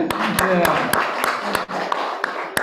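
A group claps hands at a village arts training session, sharp regular claps spaced about every quarter second over a background of voices and chatter in a room.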